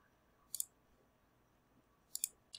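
Computer mouse clicks at a desk during Rhino modeling work: three short, sharp click pairs spaced apart over quiet room tone, close and distinct.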